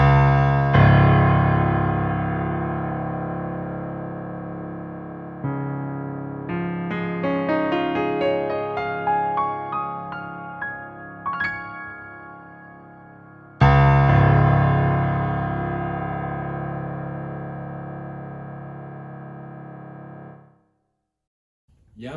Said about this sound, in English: you get the sound of that CFX concert grand